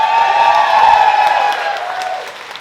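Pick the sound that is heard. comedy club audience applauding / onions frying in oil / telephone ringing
comedy club audience applauding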